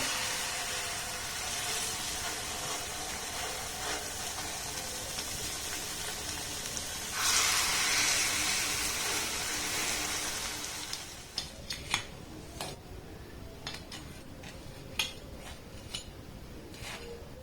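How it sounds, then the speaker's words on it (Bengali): Banana and egg pitha frying in hot oil, a steady close sizzle that grows louder partway through, then thins into scattered pops and crackles with occasional clinks of a utensil. "এবার এগুলোকে আমি উঠিয়ে নেব, আর একইভাবে সবগুলোকে আমি ভেজে নেব।"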